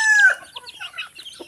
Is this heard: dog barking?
no